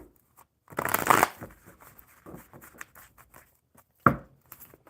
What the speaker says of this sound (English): Get these shuffled up for Hope.